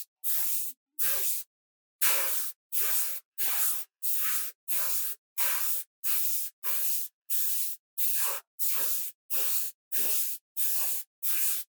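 Airbrush spraying varnish in about fourteen short, even hissing bursts separated by brief silences, close and steady in rhythm, with no talking.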